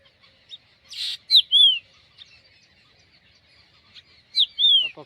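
A bird in farmland countryside gives a repeated call: a short burst followed by bright descending whistled notes, heard twice a few seconds apart, clear and fairly close against near silence.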